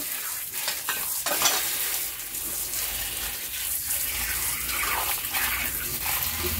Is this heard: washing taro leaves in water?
yes